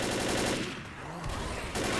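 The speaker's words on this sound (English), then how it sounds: "I can hear the gunfire more than anything." Gunfire in the video game Left 4 Dead, rapid automatic bursts at the start and end with a quieter gap between, heard at moderate level without talk.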